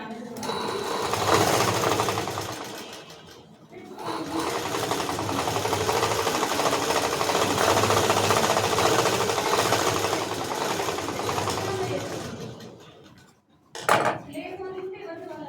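A sewing machine stitches a pleated point, running in two long, loud, continuous bursts with a short pause between them and a brief knock near the end.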